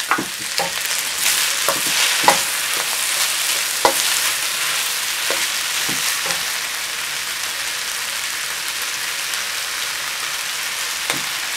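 Pineapple and rice sizzling and frying in a stovetop pan for pineapple fried rice, a steady loud crackling hiss with occasional stirring clatters, with no talking.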